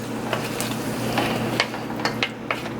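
Jamaican curry shrimp with coconut milk being tossed in a pan, with a low steady simmer under it and several light clicks and scrapes of the utensil against the pan.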